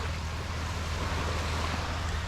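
Sea waves wash onto a beach in a steady, continuous roar with a strong low rumble and some wind buffeting the microphone, loud and close, with no talking.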